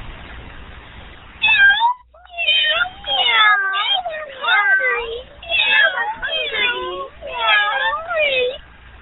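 Many cats meowing over one another, a dense overlapping chorus of loud, rising and falling meows in steady waves, close by.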